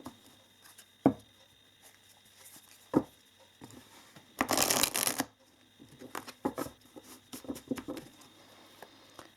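Tarot cards are shuffled in one brief, crisp riffle, surrounded by scattered soft taps and clicks of cards being handled in a quiet room.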